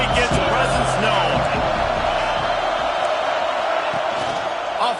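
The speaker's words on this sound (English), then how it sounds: "This crowd ready to make its presence known." Football stadium crowd at a Penn State college game roars steadily and loudly throughout, a dense wall of cheering with a broadcast announcer talking over it.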